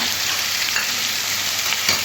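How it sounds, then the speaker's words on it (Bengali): Chopped onion and vegetables fry in a pan for a Bengali tangra fish curry, a steady loud broadband sizzle with a couple of faint stirring scrapes and no talking. "সবজির সাথে পেঁয়াজটা ভেজে সবজির সাথে পেঁয়াজটা একটু নাড়াচাড়া করে মিশিয়ে নেব"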